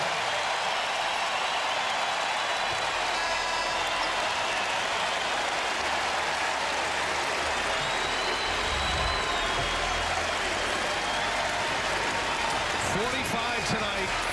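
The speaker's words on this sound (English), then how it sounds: "listen to this crowd give their star" A basketball arena crowd gives a long, loud ovation to star player Marcus Howard of Marquette, a continuous roar with scattered sharp whistles and bangs. A commentator's voice sits underneath.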